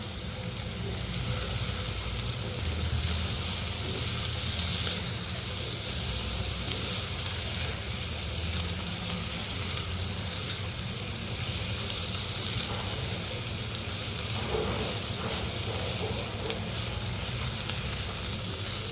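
Coriander leaves hiss and sizzle in hot oil for a meat bharta, a loud, dense, continuous frying roar with faint stirring, no voices.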